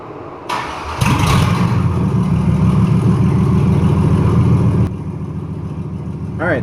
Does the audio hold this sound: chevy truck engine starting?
yes